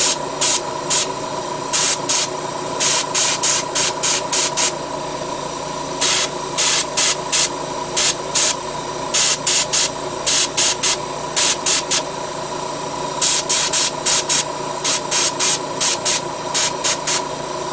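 Airbrush spraying chrome paint on a 1/144 scale Gundam model kit, hissing in short, repeated bursts of varying length, close and steady, with brief pauses between each spray.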